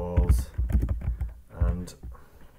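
Quick bursts of key clicks on a computer keyboard as a label is typed into Revit software, close and rhythmic, with a voice talking over them.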